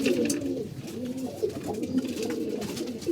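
Pigeons coo in soft, repeated low warbling phrases, steady and close, with faint background noise and no talking.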